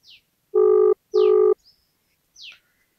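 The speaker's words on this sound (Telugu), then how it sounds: "ఒకసారి ఫోన్ చేద్దాం. ఫోన్ లిఫ్ట్ చేస్తాడో లేదో చూద్దాము." A phone ringback tone sounds during an outgoing call, two steady, buzzy pulses in quick succession, close and clear, with faint high bird chirps around them.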